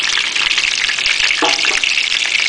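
Egg foo young sizzles steadily in a pan right after being flipped with a spatula, a loud, continuous frying crackle with a brief scrape of the spatula midway.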